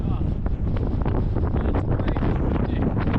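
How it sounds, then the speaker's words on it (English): Strong wind roars into an open car at highway speed, a dense, constant buffeting rush that overwhelms the microphone and drowns out everything else. "the wind is relentless"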